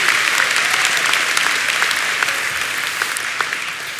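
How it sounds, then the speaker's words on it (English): An audience claps at an engineering undergraduate graduation convocation, a full, even round of applause from a large crowd with scattered sharper claps standing out, continuing steadily and easing slightly toward the end. "Yeah, we can clap for that, right?"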